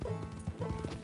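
Horse hooves clip-clop in the video game Red Dead Redemption 2, a quick run of close, distinct hoof strikes over faint background game sound.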